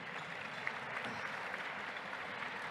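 Steady, fairly faint crowd applause rolls evenly through a school gala evening, a dense wash of clapping from an audience with no talking over it.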